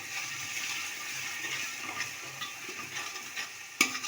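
Chili powder is stirred into biryani masala in a pan, a steady close scrape and soft sizzle with a sharp clack of the spoon near the end.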